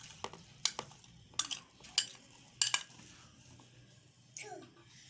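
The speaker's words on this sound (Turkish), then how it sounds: "Ve güzelce karıştırıyoruz." A spoon stirs brownie cake batter with flour in a bowl, making scattered sharp clinks against the bowl over a soft scraping, wet swishing background.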